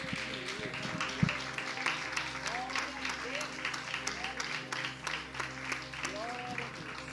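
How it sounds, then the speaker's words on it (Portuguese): Church congregation clapping during worship, moderate rhythmic applause with background music tones and faint voices underneath. "aplaude mais uma vez o nosso Deus."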